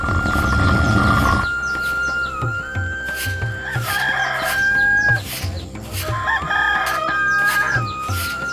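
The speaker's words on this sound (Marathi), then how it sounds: "कोंबडा तीनदा आरवलं" A rooster crows loudly and close by in a village morning, several long rising calls repeated over a few seconds, with clucking hens and other fowl around it.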